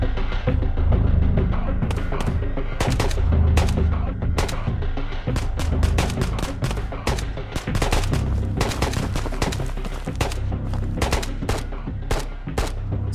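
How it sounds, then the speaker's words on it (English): In the VR shooter Ghosts of Tabor, sharp gunshots crack irregularly, some close and loud, others further off, with rapid volleys and single shots continuing throughout. "That guy's shooting at him, I'm pretty sure."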